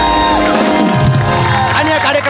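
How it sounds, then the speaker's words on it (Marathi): A cheering crowd at a festival event makes a loud, dense roar with whoops and shouts throughout, sustained without a break. "जोरदार टाळ್या"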